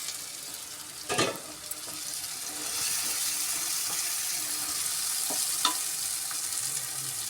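Mutton curry sizzles in a pan with a steady hiss and crackle, joined by a couple of brief stirring clinks and scrapes, fairly close and with no talking.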